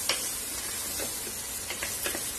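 Apple gourd pieces with salt and chilli fry in hot oil inside a pressure cooker, a steady close sizzle with a few soft stirring scrapes over it.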